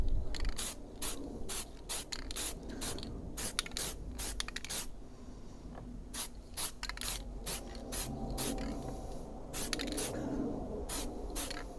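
An aerosol spray paint can lays down a light dust coat in a workshop, heard as a series of short, close hissing bursts in an uneven rhythm, separated by brief pauses and faint handling noises.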